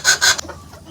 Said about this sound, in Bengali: এগুলো হচ্ছে আমার খামারের দেশি মুরগি